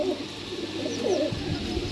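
Golden pigeons for sale at a market in Sarai Alamgir coo in soft, low, rolling phrases, close by over a steady murmur of background noise.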